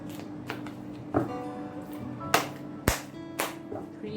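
Tarot cards shuffled by hand during a weekly reading, heard as several sharp riffling bursts spaced about a second apart over a low steady hum, with no talking.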